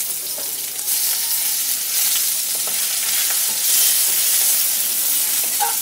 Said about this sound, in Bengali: হালকা করে একটু ভেজে নিচ্ছি।